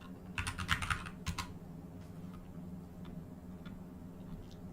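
Two short bursts of keystrokes on a computer keyboard, typing a query into ChatGPT, sounding light and close, followed by a few faint scattered taps over a steady low hum.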